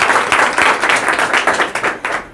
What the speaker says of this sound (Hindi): ताली बजा दो एक बार सर के लिए